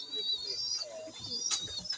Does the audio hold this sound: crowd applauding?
no